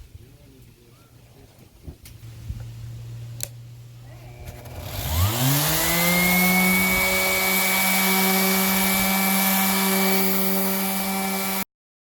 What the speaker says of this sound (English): So now I've sanded down the Bondo on this line